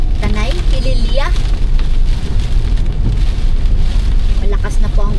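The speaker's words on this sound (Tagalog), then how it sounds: "Malakas na po ang ulan." Heavy rain pours steadily during Typhoon Uwan at a campsite in Tanay, a loud, dense hiss of drops drumming on surfaces throughout, with brief human vocal sounds rising over it.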